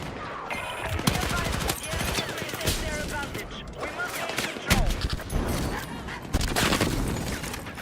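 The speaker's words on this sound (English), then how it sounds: "Just throwing hella grenades at me." Video game combat with dense, rapid gunfire and grenade blasts keeps up a loud, continuous clatter, with occasional heavier booms throughout.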